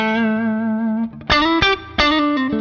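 An electric guitar plays through a Wampler Ego compressor pedal, with a sustained bent note followed by sharply attacked, evenly squeezed chords, loud and close with no talking.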